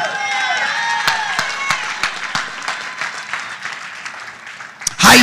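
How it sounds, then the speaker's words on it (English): Church congregation at a conference service clapping hands, sharp close claps and scattered crowd voices over a lingering tonal ring that fades, ending in a sudden loud burst. "Clap your hands and receive it."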